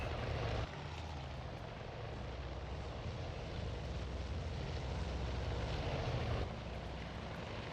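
Steady, loud propeller airplane engines drone from aircraft in the video game Battle Simulator, a continuous low rumble with a slight dip in intensity partway through and no talking.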